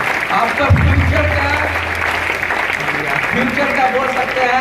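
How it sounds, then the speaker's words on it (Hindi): A crowd at a recognition program applauds with steady, dense clapping that holds level throughout, while a voice speaks over it. "एक जोरदार ताली होना चाहिए, तालियां कम नहीं पड़नी चाहिए"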